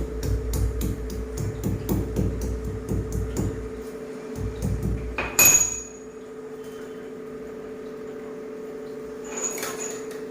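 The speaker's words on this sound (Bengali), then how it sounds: "আদাটা ছেঁচে দিই" Rapid repeated thuds of ginger being crushed for tea, a rhythmic knocking that stops, followed by a sharp metallic clink and a quieter stretch.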